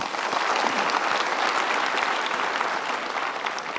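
A studio audience at a motivational talk show bursts into sustained applause, dense and loud clapping from many people that continues evenly for several seconds without any speech.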